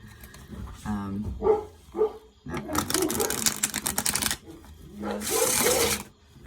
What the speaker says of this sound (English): Let me show you how it shuffles, the linen cardstock.